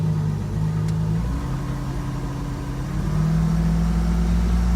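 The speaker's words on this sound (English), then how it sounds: "I rev her up gently to just give her a bit more of a warm up and tick over." A MerCruiser 4.3 EFI engine in a Fletcher Arrowhawk boat, held in neutral, idling steadily, then its pitch rises in a gentle rev and settles into a smooth, higher warm-up hum, close and continuous.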